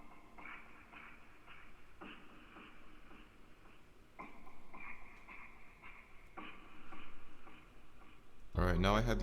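A percussion loop treated with a stereo shaper, delay and Valhalla reverb gives sparse, soft, echoing hits repeating every two seconds with washed-out tails, closing with an abrupt louder sound.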